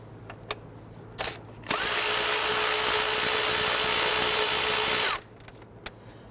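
A power tool whirs steadily for about three and a half seconds, backing out a 10mm bolt from the upper intake plenum of a 2011-2017 Nissan Quest 3.5L V6, with faint clicks before and after.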